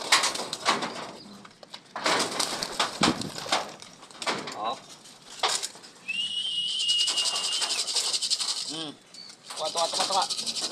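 Pigeons being fed coo softly at close range among scattered rustling, clattering and fluttering noises, with a few brief chirps.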